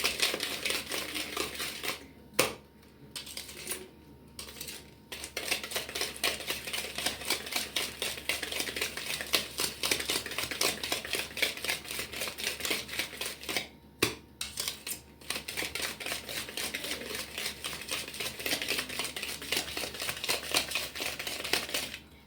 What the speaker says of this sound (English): let me continue whisking